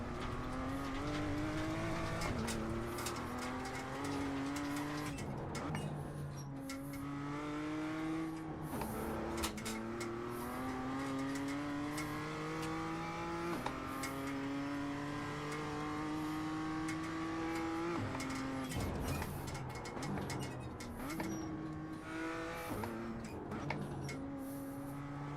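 Formula 4 open-wheel race cars lapping Laguna Seca, engines droning loud and continuous with rising and falling pitch through gear changes, several cars passing over about 25 seconds.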